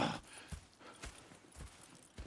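A horse's hooves clip-clop at a slow, even walking pace in the video game Red Dead Redemption 2, with about five soft, muffled strikes at a moderate distance.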